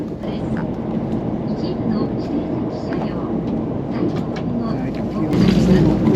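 A bullet train running at full speed between Tokyo and Hiroshima, heard from inside the carriage as a steady, loud low rumble and rolling hum that swells slightly near the end.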